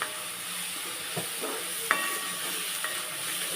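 Onions sautéing in oil in a pan for prawn thokku, a steady soft sizzle with occasional scraping stirs and a couple of sharp utensil clinks against the pan.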